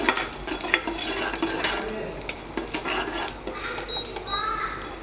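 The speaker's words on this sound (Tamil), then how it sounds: "ஃப்ரை ஆனதுக்கப்புறம் நம்ம எடுத்து வச்சுருக்க அந்த சோம்பு சீரகம் பொட்டுக்கடலை எல்லாத்தையும் சேர்த்து நம்ம வந்து ஆட் பண்ணிடலாம்" Fennel seeds, cumin and roasted gram fry in a pan for a white jackfruit kurma, with a spoon stirring and scraping against the metal amid steady sizzling; intermittent clinks and scrapes repeat over five seconds, no talking.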